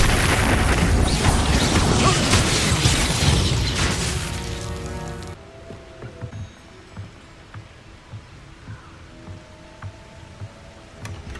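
A spell explosion in the video game Hogwarts Legacy fills the first five seconds with a loud, dense booming blast that then cuts off abruptly, leaving faint, sparse game sounds behind.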